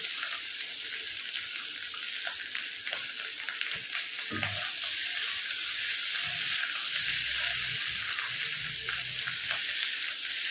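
Potatoes for a vegetarian potato curry frying in a pan with cumin, giving a loud, steady sizzle with occasional stirring clatter and scrapes underneath.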